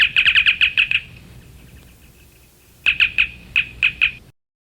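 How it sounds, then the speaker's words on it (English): Star Trek communicator sound effect from an LP of the show's effects: a rapid run of bright electronic chirps, a pause with a faint steady tone, then a second, more spaced run of chirps, clean and alone. "What you are now going to hear is the whole master communicator sequence free of any additional background noise or music."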